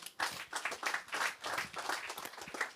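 A church congregation applauds and cheers in praise of the Lord at a healing service, dense sustained clapping with raised voices swelling in waves throughout.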